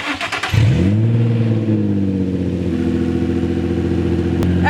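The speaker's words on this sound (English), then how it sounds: "it's a nice little cold start" A mostly stock Infiniti G35 car engine turns over in a cold start, catches with a loud rise, then settles into a steady, slightly high idle that holds close and alone.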